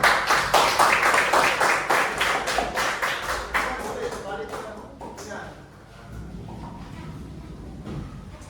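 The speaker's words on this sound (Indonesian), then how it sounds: "silakan tepuk tangan." A group of schoolchildren in a classroom claps together in a burst of applause. The clapping is steady at first, then thins out and fades under low chatter.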